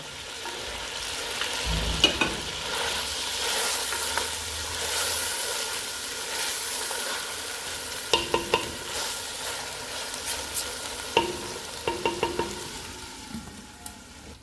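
Onions with ginger-garlic paste fry and sizzle in a pot for white korma, a steady close sizzle punctuated by clusters of sharp scraping clicks as a spoon stirs against the metal, with no speech.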